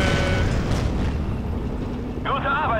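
A deep, rumbling explosion in the video game Steel Division 2 rolls on for a couple of seconds before a voice briefly speaks over the fading roar.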